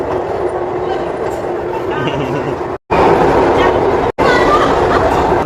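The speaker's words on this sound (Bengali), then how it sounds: "এই যে ট্রেন দাঁড়িয়ে আছে।" A train stands waiting at a railway station, its broad steady rumble and platform bustle running loud and continuous, broken by two brief dropouts, with voices and crowd talk mixed in.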